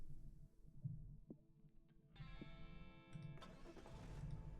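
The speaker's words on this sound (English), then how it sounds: "The car sounds like it's choking." A car engine in the video game Monster Prom 3 sputtering and struggling to catch, with low, uneven chugging pulses and rising tonal layers, faint and alone.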